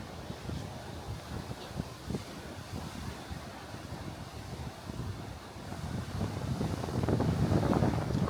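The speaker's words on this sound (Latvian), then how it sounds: "Vējš ir diezgan stiprs, un arī viļņi līdz ar to ir augsti." Steady, gusty wind buffets the microphone in a continuous low roar, swelling louder toward the end, with a faint wash of high surf beneath.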